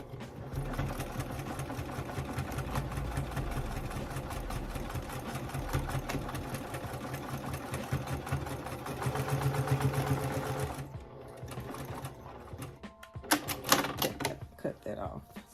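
Sewing machine stitching back and forth over a zipper on an African print fabric pouch, a fast steady mechanical whir and clatter running continuously close by, then stopping, with a few handling clicks and brief talk afterward.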